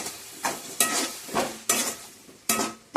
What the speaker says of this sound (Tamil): இஞ்சி பூண்டு பேஸ்ட்டோட பச்சை ஸ்மெல் போகிற வரைக்கும் நல்லா ஃப்ரை ஆகணும்